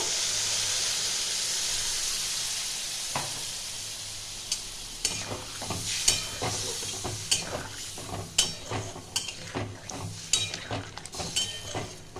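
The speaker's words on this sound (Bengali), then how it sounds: "এবার দিয়ে দেবো মশলা বাটা যে জলটা, ওইটা।" Spice paste water poured into a hot pan of potatoes and okra, setting off a loud hiss and sizzle that gives way to crackling, popping frying with intermittent stirring clinks.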